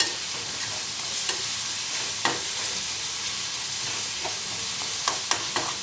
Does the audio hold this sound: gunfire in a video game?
no